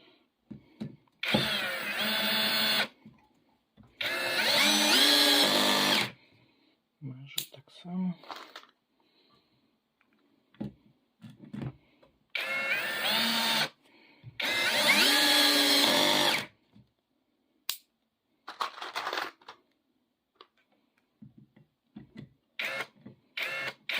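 Procraft PA18Pro brushless cordless screwdriver running in several loud, sustained bursts of a few seconds each, with pauses and brief speech between runs.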